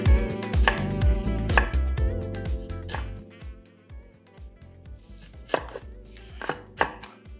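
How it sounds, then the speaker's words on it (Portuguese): A knife chops half a large onion into small cubes on a cutting board, giving rapid, crisp, evenly spaced chops close up, alone without talk. "uma boa faca que você possa engatilhar o dedo, que sobre espaço para você poder fazer o movimento na hora de picar"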